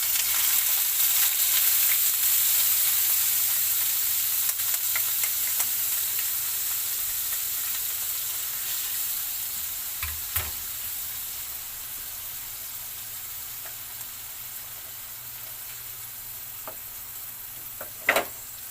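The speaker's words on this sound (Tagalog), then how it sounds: "Gigisa na natin." Bagoong alamang shrimp paste sautéing in a pan gives a steady, soft sizzling hiss that slowly fades, with a few sharp scrapes and clinks of stirring near the end.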